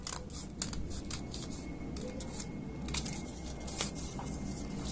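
Scissors snip through paper while a Kermit the Frog paper puppet is cut out, giving close, quiet, irregular clicks and crisp cuts over soft rustling.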